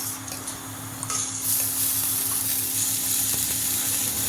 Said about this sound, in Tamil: நல்லா பொன்னிறம் ஆகிற மாதிரி வறுக்கணும்.